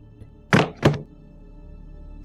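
Two heavy thumps, about a third of a second apart, form a horror-narration sound effect of something hitting a closet door; both are loud and close, with quiet room tone afterward.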